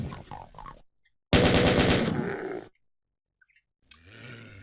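Doom gunfire comes as a loud, dense burst of rapid shots lasting over a second, then silence, then a short, sharp blast near the end.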